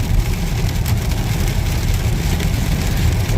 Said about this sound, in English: Look at that, all that rain.